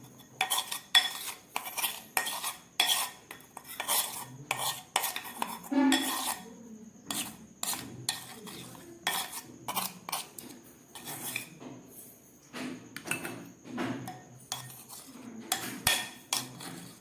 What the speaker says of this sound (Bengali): এবারে যেটা করব সেটা হচ্ছে এই দইটাকে আমি এর মধ্যে একটু মেখে নেব।